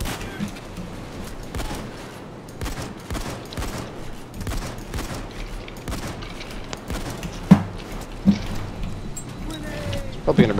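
Explosive gunfire rips through a Payday 2 bank heist shootout, with dense bursts of shots and a few sharper blasts standing out over continuous battle noise, while players talk throughout.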